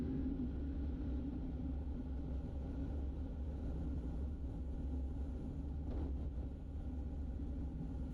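A Suzuki Hayabusa motorcycle riding along a road, its engine and wind noise forming a steady, loud, low rumble throughout with no breaks or talking.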